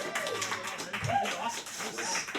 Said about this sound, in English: Let's do a big round of applause for Jack.